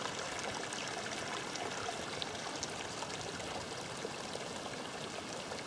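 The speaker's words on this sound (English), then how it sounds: "just listening to the soothing sounds of water trickling" Water trickling and streaming over rock at a coastal bush lookout near Woy Woy Bay, a steady, dense wash of rushing water with no pauses, close and continuous.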